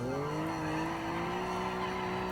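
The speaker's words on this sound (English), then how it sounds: "That's a bit more wheel spinny." A race car engine revs and rises in pitch while the tyres spin and squeal in a video game, a continuous close tonal whine lasting a couple of seconds.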